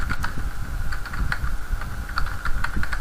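Code is being typed on a computer keyboard, with quick, irregular clicking keystrokes close up and at moderate volume, with no talking.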